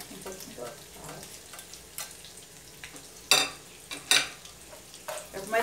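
Rice and pumpkin frying in a pan, a soft steady sizzle broken by several sharp stirring scrapes and clicks of the utensil, close and fairly quiet with no talk.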